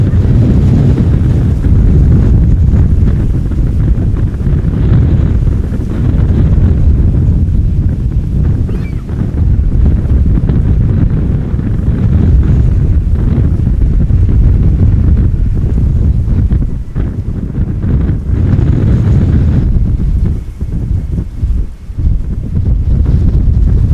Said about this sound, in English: It feels like the wind is intensifying over the past hour.